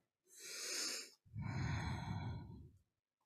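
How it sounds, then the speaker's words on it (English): Two deep yoga breaths during a vinyasa flow: a long, airy inhale, then a brief pause and a fuller, rougher exhale, both close and clear in a quiet room. "Inhale and exhale here."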